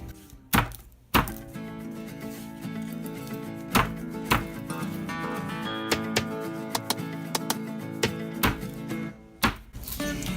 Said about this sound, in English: We're going to start by crushing and peeling our garlic.